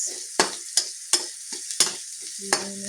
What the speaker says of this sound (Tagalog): Gilupuin natin ng konti. Para malabas yung aroma ng sibuyas bawang.